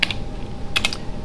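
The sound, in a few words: typing a command on a computer keyboard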